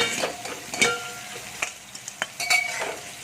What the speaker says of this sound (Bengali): নোনা ইলিশের তেলটা দিয়ে আমি করলাটাকে ভেজে নিচ্ছি